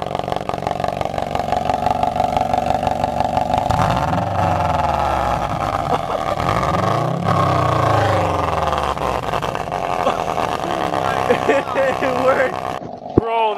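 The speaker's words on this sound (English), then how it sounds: "Get the exhaust going." A car's cheap two-dollar aftermarket exhaust pipe mod revving loudly and booming with rising and falling engine sweeps, continuous and close, with excited voices shouting over it.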